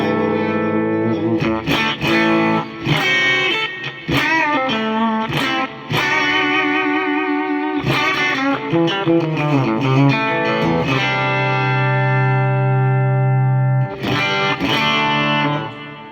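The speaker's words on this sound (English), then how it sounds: "let's take a listen to the bridge pickup" Fesley budget electric guitar on the bridge pickup, through a Fender twin-style amp tone with heavy reverb and compression, plays loud sustained chords and single-note runs in phrases with brief pauses, ringing on its own.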